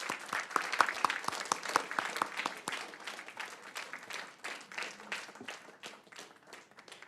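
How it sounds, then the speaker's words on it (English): A room at a school district governing board meeting breaks into steady applause as a new honoree is recognized, with dense, moderately loud clapping that thins and softens over about seven seconds. "Let's give Valencia Newcomer a round of applause."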